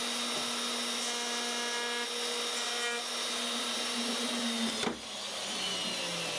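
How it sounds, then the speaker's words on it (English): A router table cuts into the wooden body of a homemade Telecaster-style guitar, a steady high-pitched motor whine with a constant tonal hum and a brief bite of the bit partway through, running continuously and close. "routed out the areas the drill couldn't reach"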